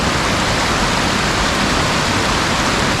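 Timberline Falls, a mountain waterfall among snow, ice and loose rock, roars nearby as a constant, loud, dense rush of white water with no breaks or voices.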